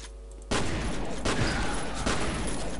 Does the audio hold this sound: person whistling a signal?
no